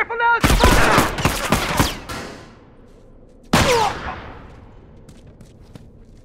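Gunfire in The Last of Us Factions erupts as a rapid burst of loud close shots, then a single heavy shot after a pause, fading into quiet game ambience.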